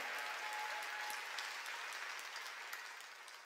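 A church congregation at a worship service claps together, producing a dense, sustained wash of applause that holds steady and then fades slightly toward the end, heard from a distance and fairly faint.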